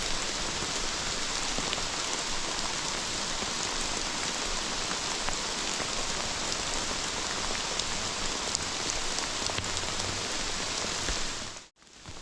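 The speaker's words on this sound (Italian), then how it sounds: "Piove e c'è il sole." Steady, close rain patters on a wet mountain trail in the Dolomites during a mountain-bike ride, a dense even hiss that continues without a break and cuts off abruptly near the end.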